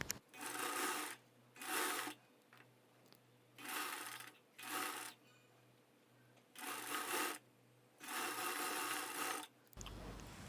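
Sewing machine stitching lining onto a shape belt for a blouse, run with the presser foot edge along the fabric edge: six bursts of whirring stitching, each about a second long, separated by pauses, fairly close and clear with no talk.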